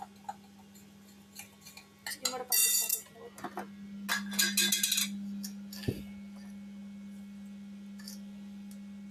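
A spoon clinks and scrapes against a bowl while stirring a sugar mixture, with irregular bright metallic taps clustered in the middle stretch over a steady low background hum, then quieter toward the end.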